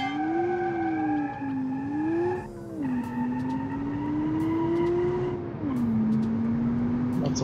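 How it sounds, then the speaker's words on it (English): A front-wheel-drive sport hatchback spins its wheels in a driving video game. Its engine drones loudly and steadily, rising and dropping in pitch with each gear change and throttle lift, and no one talks. "Lots of wheel spin."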